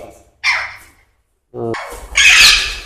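Young birds hatched in early spring squawk at a bird nursery, two separate bursts of harsh, shrill calls, the second longer and louder, heard close with no talk.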